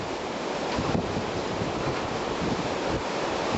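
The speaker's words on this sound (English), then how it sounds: "I don't think I've ever really heard wind make that noise before" Loud, roaring storm wind with broadband noise, buffeting the microphone continuously, no voices present.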